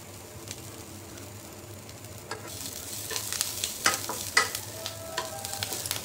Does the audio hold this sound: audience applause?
no